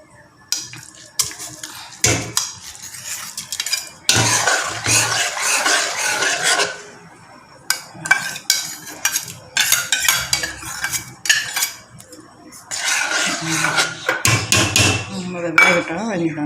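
Sago goes into a pot of vermicelli payasam with cloves and cardamom and is stirred, giving loud intermittent metallic clanks, scrapes and clinks of a spoon against the pot in uneven bursts.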